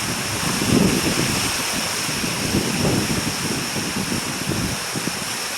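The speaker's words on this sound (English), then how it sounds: "Just the waterfall alone." A man-made lakeside waterfall gives off a steady, broad rush of falling water, constant and fairly loud, with some low wind rumble mixed in.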